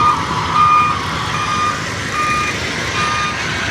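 Trucks reversing onto a ferry at Allen port in Northern Samar, with regular, repeated reversing beeps over a constant loud engine rumble and harbour noise, and no voices.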